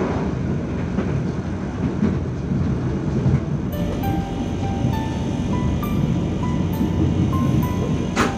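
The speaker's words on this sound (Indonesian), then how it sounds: "KA Gaya Baru Malam Selatan kembali diberangkatkan dari stasiun Cirebon Prujakan jam 14:24 menit." The Gaya Baru Malam Selatan passenger train pulls out of Cirebon Prujakan station and runs on. A steady, loud rumble of wheels and carriages fills the scene, and thin tonal squeals and whines rise in the second half.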